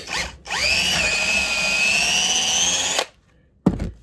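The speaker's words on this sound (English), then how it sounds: "And one of my old cordless DeWalts." Old DeWalt cordless drill whirring up loudly at close range, a brief start, then a sustained whine of about two and a half seconds that cuts off, followed by a short thump.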